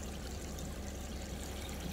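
Small garden pond waterfall splashing steadily into the water, a continuous broadband rush with no pauses, close and moderately quiet, with no voices.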